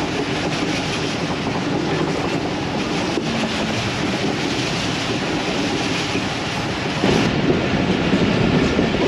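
The 14DN Awam Express passenger train runs along the track in Pakistan, a steady loud rumble with wheel clatter, heard from on board and continuous throughout, growing slightly louder near the end.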